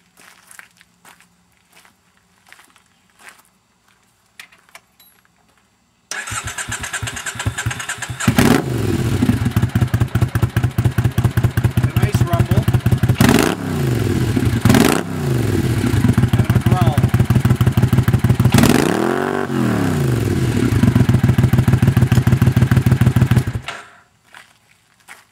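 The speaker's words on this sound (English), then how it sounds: "do a side-by-side comparison of the British Customs bombers for the America, except it's on a Speedmaster, and the cocktail shakers, which is on a 2003 America." A Triumph motorcycle with British Customs Bomber or cocktail shaker mufflers, either a Speedmaster or a carbureted 2003 America, starts up and idles loudly nearby, with several revs and a pulsing thump before shutting off, and people talk over it.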